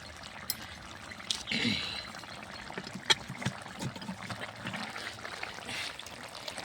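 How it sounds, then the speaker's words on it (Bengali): Bottle gourd curry with a little gravy is tipped out of a cooking pot, giving a soft, close trickle and slosh mixed with faint scrapes and clinks of the pot. No voices are heard. "এখন আমি তরকারিটাকে ঢেলে নেব।"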